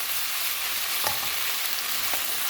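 Kimchi stir-fried with garlic in a pan for soybean-curd stew, a steady close sizzle and frying hiss throughout with a couple of brief scraping stirs, no talk.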